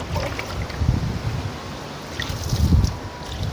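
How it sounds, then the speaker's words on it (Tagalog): Strong wind blowing outdoors, a broad steady rush with louder gusts swelling around the one- and three-second marks, buffeting close to the microphone. "pero ngayon biglang lumakas yung hangin."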